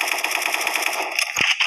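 Rapid AK-47 automatic fire in the online shooter Special Force 2, a fast steady stream of close, loud shots that runs through the whole stretch, with one deeper thump near the end.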